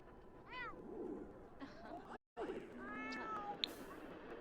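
A cat in The Sims video game gives a few rising meows, quiet and spaced out, with a short silent gap midway and a brief higher chirp near the end; chatter and game ambience sit faintly underneath.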